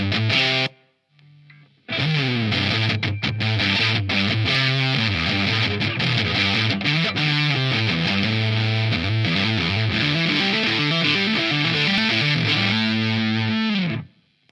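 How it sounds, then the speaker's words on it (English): Electric guitar played through a Joyo Splinter JF-21 distortion pedal gives a thick, fat fuzz tone: loud, sustained chords and notes ring for about twelve seconds after a short opening stab, with no talking. "That's the fuzz tone right there."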